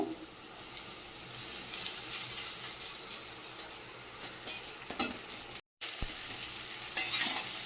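Rice being stir-fried in a pan for a festive home meal, giving a continuous close sizzle with scraping stirs throughout and a brief cut near the end.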